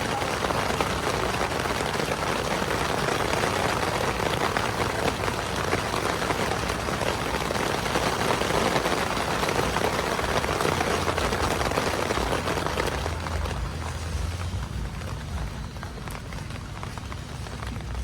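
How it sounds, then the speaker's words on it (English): Hard rain pours down steadily at an outdoor strawberry market, a dense, loud, continuous hiss that eases slightly near the end. "Some hard rain, people."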